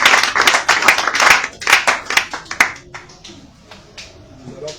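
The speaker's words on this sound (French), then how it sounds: "Tu peux acclamer pour le Seigneur." A church congregation claps to acclaim the Lord, with dense rhythmic clapping for about three seconds that thins into scattered, fading claps.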